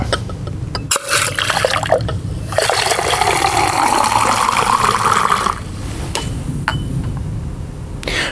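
Water rushes from an AutoSiphon bar-top syphon re-filler into a glass, a loud, close splashing fill lasting several seconds between sharp knocks and clinks.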